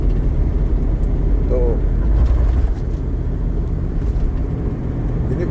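Carbureted Toyota Kijang Krista engine droning steadily while cruising in fifth gear, a low continuous rumble close by inside the cabin, with people talking over it.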